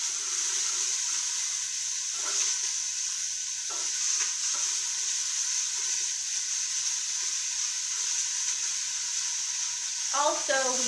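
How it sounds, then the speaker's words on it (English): Onions hiss in a pan on a Samsung cooktop with a constant, even sizzle throughout, joined by a few faint clinks and a short voice near the end. "So I'm going to throw in these onions."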